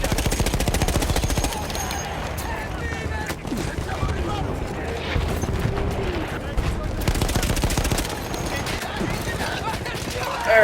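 Rapid automatic gunfire and single shots in the World War I shooter Battlefield 1, dense and continuous throughout, with occasional heavier impacts and someone talking over the battle.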